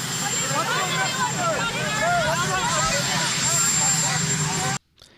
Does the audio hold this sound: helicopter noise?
yes